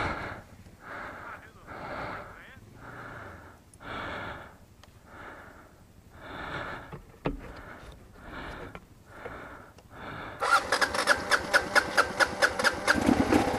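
A Kawasaki KLR650 motorcycle turns over in a series of rhythmic cranking bursts, then catches at the end into a loud, close, steady idle with sharp pulsing beats.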